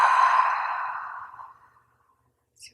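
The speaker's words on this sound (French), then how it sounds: "Une grande expiration par la bouche" A single long, deep exhale through the mouth during a guided yoga breathing exercise, close and breathy, fading out over about two seconds before a brief faint sound near the end.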